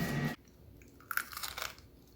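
Crunchy air-fried chicken coated in crushed chips is bitten and chewed up close, a cluster of crisp crunches after a brief loud burst, with no talk.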